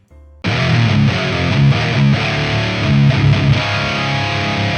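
A high-gain electric guitar tone through a Line 6 Spider Valve HD100 amplifier: loud, continuous heavily distorted chords and riffs that begin abruptly after a brief quiet moment and keep going without any talking.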